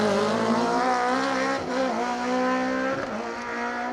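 A 2.3 litre E30 BMW M3 historic rally car races flat out on an asphalt stage, its engine a loud, sustained howl that holds steady, with two brief dips in pitch as it shifts gear.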